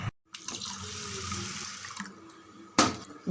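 Soaked green gram rinsed under a running kitchen tap, a steady broadband rush of water into a sink that pauses briefly near the start and ends with a louder splashing burst; no talking.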